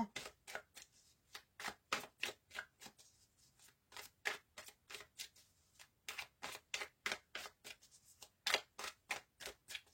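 Tarot cards being cut and handled, giving a steady run of crisp, papery flicks and snaps at an even quick rhythm, close and fairly loud, with no talking.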